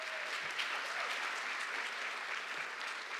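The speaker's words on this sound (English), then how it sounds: "Just get a round of applause." A graduation ceremony crowd gives a round of applause for a councilwoman, an even, sustained burst of many hands clapping at moderate loudness with no break.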